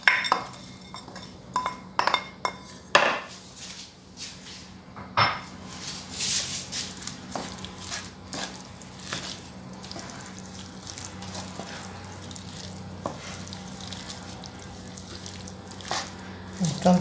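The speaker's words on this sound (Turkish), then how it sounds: "maydanozunu ilave ediyoruz." Parsley being stirred into a pot of cooked mince, rice, tomato and onion, a spoon knocking and scraping against the pot in scattered clinks, loudest early on, over a faint kitchen hum.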